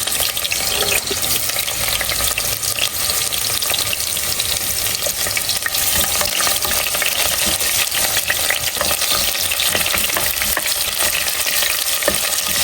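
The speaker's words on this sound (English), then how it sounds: "Once the spices are fried, I'm adding about half an onion" Half an onion frying in ghee with cloves and cardamom, a steady dense sizzle and crackle running loud and unbroken throughout, with faint stirring.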